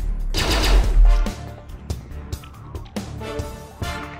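Gunfire rings out in an animated battle scene: a loud opening burst of shots, then scattered sharp reports and short volleys at irregular intervals.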